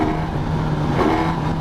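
Brief, loud burst of a Suzuki GSX-S1000GT motorcycle engine revving in its sharpest, most powerful A mode, a steady close-up roar with no speech.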